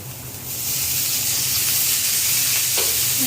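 Chopped onion frying in hot oil: a steady, close sizzle that swells in after the first half second and holds loud and even, with no talking.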